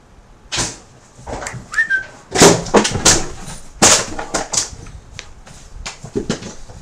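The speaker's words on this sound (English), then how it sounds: "that's him beating up a plastic bottle" A dog named Milo attacks and bats a plastic bottle around in play, giving irregular bursts of sharp crinkles, clatters and thumps at close range, with no talk.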